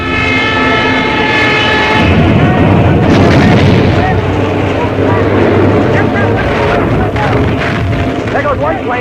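Shipboard anti-aircraft guns on LST 314 firing during a 1944 D-Day radio broadcast, a dense, loud, continuous roar of bursts with engine drone beneath, heard over crackling transmission noise with someone talking throughout.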